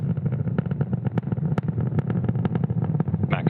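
A Starlink Falcon rocket climbing through the atmosphere at supersonic speed near max Q gives off a steady, loud, broadband roar with crackling bursts throughout.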